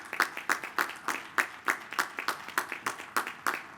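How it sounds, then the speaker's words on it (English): Scattered applause from a commencement audience honoring first responders, with distinct individual claps landing in a loose, fairly regular rhythm, moderately near and not very loud. "Please give them a round of applause."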